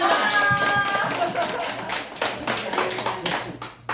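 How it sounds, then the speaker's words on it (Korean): An audience at a lecture claps briskly in a burst of hand claps that gradually thins out, heard up close with faint voices underneath. "박수 주세요."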